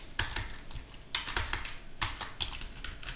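Computer keyboard keys tapped in short uneven bursts while entering a Linux terminal command, close and clear with no talking.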